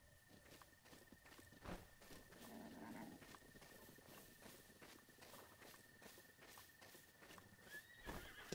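A horse in the video game The Legend of Zelda: Breath of the Wild trots with steady, quiet hoof clops and gives a faint whinny, under a low, even game soundscape.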